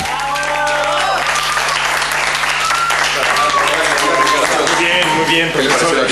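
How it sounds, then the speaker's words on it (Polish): Sustained audience applause after a university lecture, a dense steady clatter of many hands clapping, with voices speaking over it. "Brawa dla Ricarda Mendioli."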